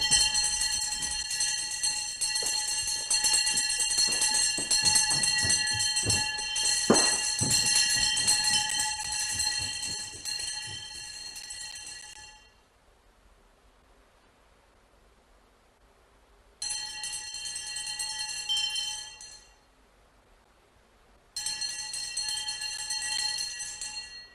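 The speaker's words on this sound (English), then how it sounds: "The day of the training monks begins with the wake-up bell." A Zen monastery wake-up bell rings at four in the morning, sustained bright tones ringing out loud, then fading to near silence before two more shorter strikes return, each ringing and decaying.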